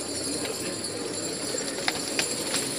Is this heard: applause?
no